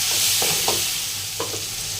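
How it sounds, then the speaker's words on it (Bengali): Chicken with chili powder and salt fries in a pan, producing a loud, even sizzle with a few soft stirring scrapes. "চিকেনটাকে একটু গুঁড়া মরিচ অ্যান্ড লবণ দিয়ে একটু ফ্রাই করে নেবো"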